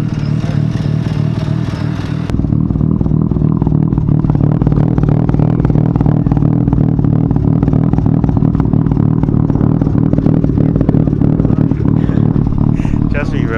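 Close and loud, a Mazda RX-7 FD rotary engine running on premix holds a steady, buzzing drone, stepping up in intensity after about two seconds and sustaining a raspy rev with mechanical clatter to the end.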